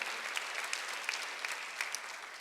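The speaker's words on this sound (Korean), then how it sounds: "박수 한번 주세요." A church congregation at a Sunday worship service claps together, a faint, even patter of many hands with a few sharper claps standing out, continuing without pause.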